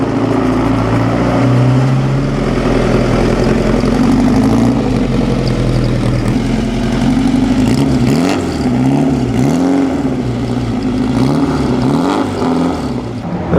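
A pre-1957 Porsche racing car at the Mille Miglia road race runs loud and close, its engine droning steadily and then rising and falling in pitch several times as it passes, with no talk over it.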